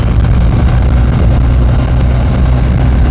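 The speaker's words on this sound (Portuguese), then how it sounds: "este motor ou este ruído aqui na frente" A 2021 BMW R 1250 GS motorcycle engine while riding, a loud, steady low-pitched drone with heavy rumble and wind-like broadband noise throughout, no talking.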